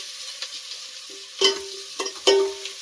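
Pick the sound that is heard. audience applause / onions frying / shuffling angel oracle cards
onions frying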